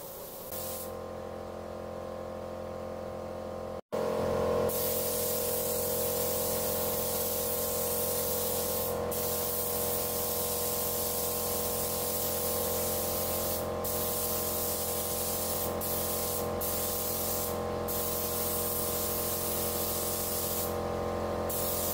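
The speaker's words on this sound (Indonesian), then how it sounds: "jadi untuk penyemprotan warnanya kurang lebih seperti itu ya lur" A paint spray gun spraying solid black paint gives a continuous loud hiss, briefly cut off near the start and then resumed, steady and close, with a few short dips where the trigger eases off.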